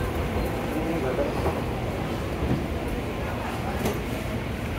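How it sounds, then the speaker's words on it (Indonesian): Inside a moving commuter train bound for Bogor, a constant loud low rumble and rattle of the carriage fills the space, with murmuring voices mixed into the steady noise. "kita sekarang lagi ada di kereta"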